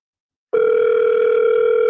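A telephone ringback tone heard during an outgoing call, starting after half a second of silence and holding as one loud, steady electronic tone.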